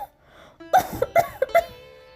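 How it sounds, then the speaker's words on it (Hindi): An elderly woman coughs in a short burst of four or five rough, hacking coughs, close and loud after a brief quiet moment. "बुढ़िया खांसते हुए बैठ गई।"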